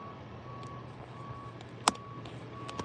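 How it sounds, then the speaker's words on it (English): A big truck backing up, its reversing alarm sounding as a thin, steady beeping tone over a low engine hum, with a sharp click partway through. "They got this big ass truck right here."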